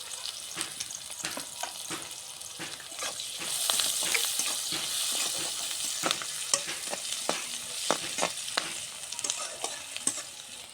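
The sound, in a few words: onions frying in oil in a pan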